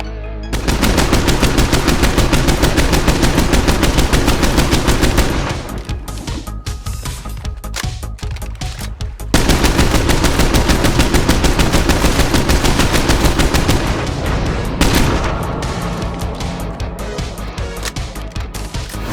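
Rapid, sustained gunfire from a shotgun in State of Decay 2, loud and dense, in two long bursts separated by a brief lull, with no talk over it.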